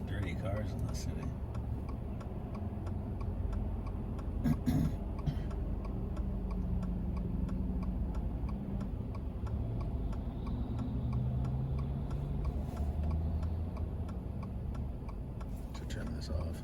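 Inside a Toyota GR86, the turn signal ticks in a steady, even rhythm through the whole stretch, quiet under a low engine and road hum while someone talks over it.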